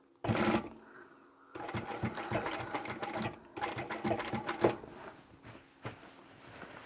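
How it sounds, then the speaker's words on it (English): Sewing machine stitching a folded strip of fabric onto a braided rope handled market bag, running in several close, steady bursts of rapid needle clatter with brief pauses between them. "that's where I'll start sewing the folded piece of fabric over"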